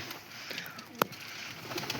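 Pigeons coo softly nearby over a steady background hiss, with one brief sharp knock partway through and no voices.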